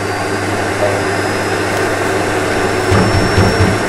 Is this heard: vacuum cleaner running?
yes